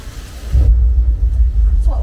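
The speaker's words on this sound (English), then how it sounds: "the thunder that you're hearing all around us" Deep rolling thunder from a pre-recorded sound effect booms through hidden speakers on a Universal Studios Hollywood tour set, a loud low rumble that swells and lingers, with a voice speaking over it.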